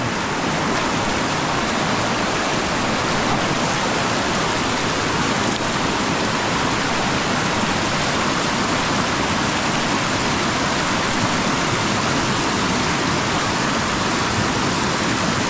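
Dumacaa River runs in a strong, heavy flow, a loud and continuous broadband rush of churning water close by, unbroken for the whole stretch with no voices.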